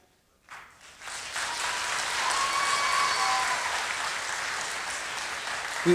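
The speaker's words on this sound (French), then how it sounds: "Vous êtes un peu fatigué, vous venez de voir un truc. Bof. Vous applaudissez comment?" Lukewarm audience applause at a comics festival drawing battle, starting abruptly after a moment of quiet and continuing as a steady, moderate patter with a few cheers mixed in.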